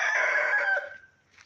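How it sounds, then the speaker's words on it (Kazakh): Rooster crowing loudly and close, one long sustained crow that fades out, with chickens faintly clucking around it in a poultry yard. "Мен міне әтештерді, патуқты, тауықтарды түсірейін дедім"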